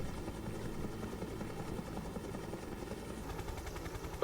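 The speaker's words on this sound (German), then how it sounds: "Das ist schon cool, so ein Helikopter" A helicopter in a Ubisoft video game hovers with a steady, low rotor thrum and a constant drone that stays fairly faint throughout.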